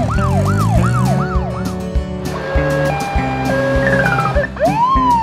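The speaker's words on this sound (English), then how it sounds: "China. Police car." Chinese police car siren wailing loudly and close, a rapid rising-falling yelp that shifts into a steady two-tone pattern and then a rising wail, with traffic rumble beneath.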